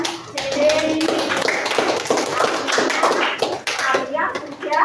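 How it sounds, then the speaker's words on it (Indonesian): Classroom students clap for two classmates, quick overlapping hand claps mixed with chatter and voices, close and lively throughout. "tepuk tangan untuk Lasmi dan Cede"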